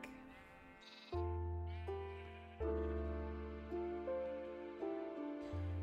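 Repeated sheep bleats from a flock in the Minecraft video game, several drawn-out calls overlapping one after another at steady loudness, with no talk.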